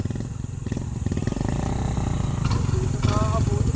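Motorcycles rumble and rev as they pull away together, a steady low engine drone that swells louder near the end, with people talking over it.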